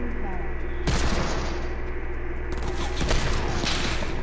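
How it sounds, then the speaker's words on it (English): Gunfire in a shooter video game, bursts of rapid shots over a dense, loud game soundscape with a steady low rumble, as a player's voice talks alongside. "Oh, somebody shooting us from behind!"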